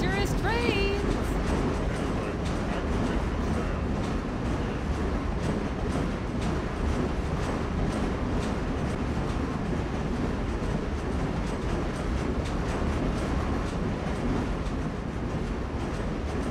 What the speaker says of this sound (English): I can see dangerous trains.